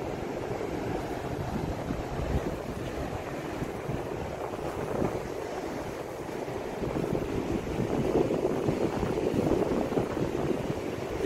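Ocean waves crash and roll steadily onto a secluded Cumberland Island beach, a dense continuous surf roar with wind buffeting the microphone, swelling louder toward the end, no voices.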